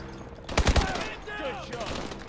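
Gunfire in the Call of Duty: Advanced Warfare campaign on Xbox 360: a short, loud burst of shots in the middle, followed by game sound effects and a fading tail.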